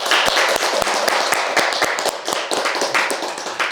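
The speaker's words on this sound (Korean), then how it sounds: "그런 의미에서 우리 박수 한번." A small audience claps together after a talk on life advice, a dense run of sharp individual claps close by, thinning slightly toward the end.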